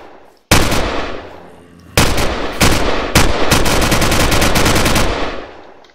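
A gun fires in the Crafting Dead Minecraft mod, a 600 RPM high-recoil rifle: a short burst, a pause, then several longer loud rapid-fire bursts with brief gaps, close and alone without voices.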